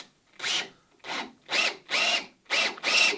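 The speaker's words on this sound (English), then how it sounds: "But then I'll do the rest of the drilling from the front." Drill driving an auger bit with a lead screw into wooden boat timber, six short rhythmic bursts of grinding and rubbing about half a second apart, close and fairly loud with brief pauses between.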